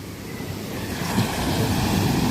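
Ocean waves surge and wash in a steady roar, growing slightly louder, with wind buffeting the microphone.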